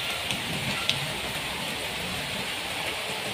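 Steady, dense rain pours without letup during a long spell of monsoon downpours, a close, even hiss filling the whole stretch with only a faint tick or two standing out.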